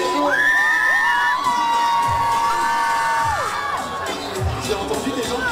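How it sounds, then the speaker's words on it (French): A large crowd at the Paris Games Week 2018 gaming expo cheers, whoops and shouts continuously, loud and close, with a high sustained tone running over the roar. "Oui, la foule est en délire."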